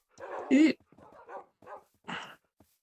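Minecraft dogs give a few short, close barks and yips in quick bursts, the loudest near the start and another a moment later, with quieter whimpers in between.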